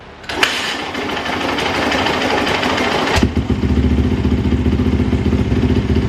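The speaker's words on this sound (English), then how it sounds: "let's start up the bike and then let's drain this oil" A motorcycle engine cranks over and catches, then settles into a loud, steady idle with a rapid rhythmic chug close to the listener.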